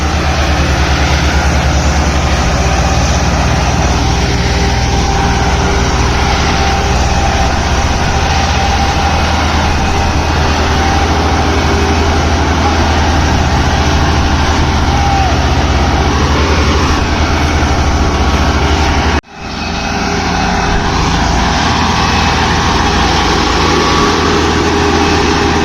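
A tractor engine labours steadily and loudly while pulling a trolley heavily loaded with sugarcane along a difficult road, a continuous low drone with a brief dip near the end.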